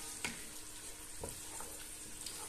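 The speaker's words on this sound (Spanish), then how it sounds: "Lo vamos a sofreír 3 o 4 minutitos" Smoked bacon and mushrooms sizzle softly in a pan, a faint steady frying hiss broken by a few light stirring scrapes.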